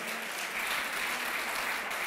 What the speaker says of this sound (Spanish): Démosle un fuerte aplauso al Rey.